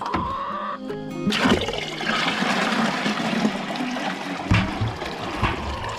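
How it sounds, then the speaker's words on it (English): Leftover water from soaking feed is poured outdoors to refill a container, giving a steady close splashing, trickling flow that runs continuously for several seconds with a brief louder splash near the end. "I had some water left over from the soaked feed, so I was just gonna go ahead and fill this back up while I'm out here."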